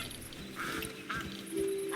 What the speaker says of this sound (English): we could transform it into a living goose. Let's do it. See, the goose is present.